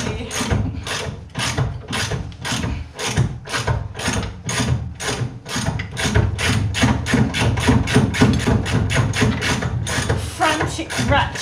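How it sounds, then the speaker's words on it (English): Rapid, frantic clicking of a hand ratchet on a rusty Land Rover Lightweight rear chassis, a steady close rhythm of sharp metallic ticks running throughout, with faint background voices. "Frantic ratcheting over there"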